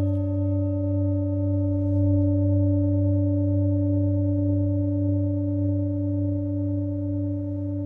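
Tibetan singing bowl struck near the rim with a striker in an upward motion, ringing out as a steady, sustained tone with stable overtones that hold at even loudness throughout, alone with no talk.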